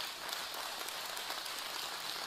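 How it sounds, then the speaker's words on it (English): Church congregation applauding, a steady dense clapping that fills the space evenly and stays fairly loud from start to finish with no voices on top. "sure, you can applaud for them too if you want."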